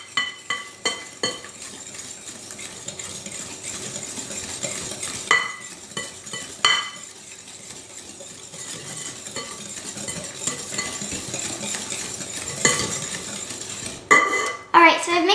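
Vanilla being mixed into cookie dough in a bowl, giving a run of scraping, clinking stirs with sharp utensil taps against the bowl at the start and end, moderately close and fairly quiet.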